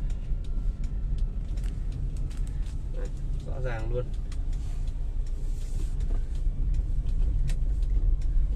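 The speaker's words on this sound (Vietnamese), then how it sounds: "một chiếc xe đi rất là êm luôn" A 2008 Hyundai Verna drives at night in traffic, its engine a steady low rumble with road noise running throughout, while someone talks over it.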